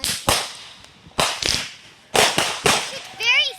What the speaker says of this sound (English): this is the fireworks show